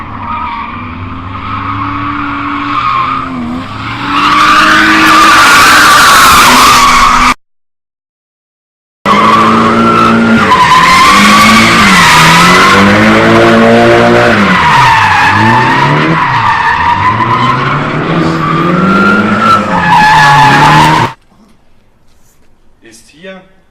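Drift cars skidding with long tire squeals at Hockenheim during a drift series warm-up and qualifying, loud and close, engines revving in swelling passes with a brief silent break; a person talks at times.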